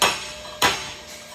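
Two sharp metallic taps about half a second apart, a metal tool seating an axle bearing, ringing briefly, close by.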